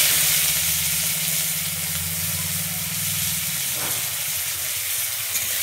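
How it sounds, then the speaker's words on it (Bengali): Chopped onions hit hot oil in a pan for a fish and potato curry, a steady broadband sizzle with a low rumbling hum underneath, close and continuous with no talking. "তারপরে আমি দিয়ে দিচ্ছি কুচনো পেঁয়াজ"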